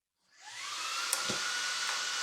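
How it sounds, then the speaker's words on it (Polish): A Xiaomi G20 Max cordless stick vacuum cleaner with a pet grooming brush switches on from silence, its motor whine rising over about half a second into a loud, steady high hum, with a brief click partway through. "No i teraz patrzcie, włączam odkurzacz"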